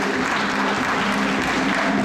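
Steady applause from an audience at a family gathering, a continuous dense patter of clapping hands that holds at an even level throughout, fairly close and with no talk over it.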